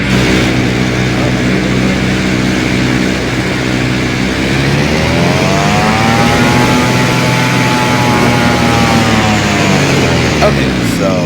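A Cirrus SR22 piston aircraft engine in the X-Plane flight simulator drones loudly, its pitch dipping and then rising again in a smooth sweep, with a brief click near the end.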